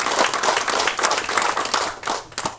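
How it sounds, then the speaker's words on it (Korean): Lawmakers applauding in a party assembly meeting, a short burst of brisk, dense clapping from a roomful of people that carries loud and even throughout before tapering slightly at the end. "의원님 여러분들의 박수를"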